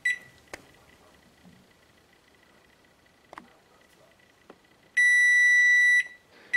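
A newly installed 2011 Whirlpool over-the-range microwave-hood sounds its timer alarm, a loud, sustained, high-pitched electronic beep lasting about a second near the end, preceded by a few faint clicks and button presses indoors.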